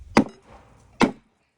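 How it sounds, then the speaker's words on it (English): Two sharp wooden knocks about a second apart as a 4-pound hammer drives wooden raised bed boards together, close and loud, with no talk. "all you're going to need to do is hammer them"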